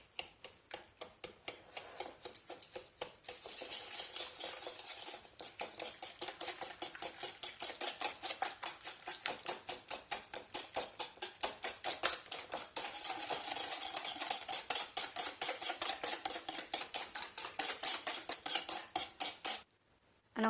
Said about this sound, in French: Et on mélange.